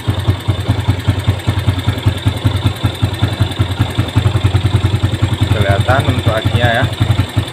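A Yamaha Jupiter Z1 motorcycle engine runs close by with a loud, rapid, steady idle putter, and someone speaks briefly over it near the end.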